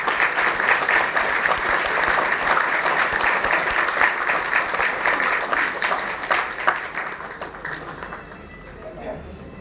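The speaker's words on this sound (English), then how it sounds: "May we have a round of applause" Sustained audience applause at a book launch in an auditorium, a dense wash of many hands clapping steadily for several seconds before tapering off toward the end, with a few voices mixed in.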